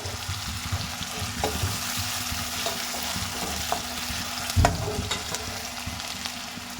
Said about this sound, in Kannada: ಈರುಳ್ಳಿ ಎಲ್ಲ ನೀಟಾಗಿ ಹಸಿ ವಾಸನೆ ಹೋಗೋವರೆಗೂ ಫ್ರೈ ಮಾಡ್ಕೋಬೇಕು ಸ್ವಲ್ಪ ಕೆಂಪಾಗೋ ರೀತಿ ಫ್ರೈ ಮಾಡಿದ್ರೆ ತುಂಬಾ ಚೆನ್ನಾಗಾಗುತ್ತೆ